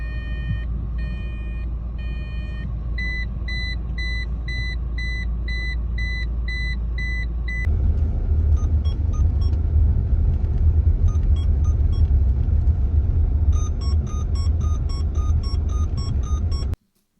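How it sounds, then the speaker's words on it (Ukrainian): Seatbelt reminder warnings from a Renault Megane 3 and a Renault Laguna 3 in turn, each a repeating pattern of steady electronic chime tones sounding over a low cabin rumble, the second sequence following after a brief switch. "Якщо на третьому мегані він тобі просто кричить «Пристебнися!», то на третій лагуні він тобі лагідно каже «Шановний, будь ласка, вдягніть пасок безпеки»."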